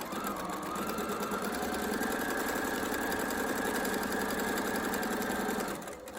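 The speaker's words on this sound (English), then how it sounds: "Put the needle in and stitch down the other side." A sewing machine runs steadily for about six seconds, stitching down one side of a seam with a continuous, even whir and rapid needle rhythm, fairly close and alone, then stops.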